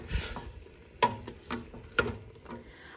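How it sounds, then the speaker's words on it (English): A spoon stirs red wine through a hot pan to deglaze it, with soft scraping strokes and two sharper knocks against the pan over a low sizzle. "to deglaze the pan, I have 3/4 cup of red wine. Okay, so I'm just gonna stir all of this together."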